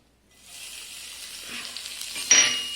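Cumin seeds hit hot oil in a pan while a Rajasthani chicken curry is being started, giving a sudden steady sizzling hiss that swells and grows brighter with a sharp crackle near the end, with no voices.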